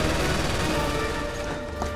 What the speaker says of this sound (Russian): Там кто-то с кем-то перестреливается.